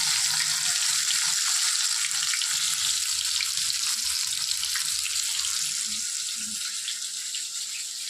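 Steady, close hiss and sizzle of fish pieces frying in oil in a pan, continuous throughout with faint crackles.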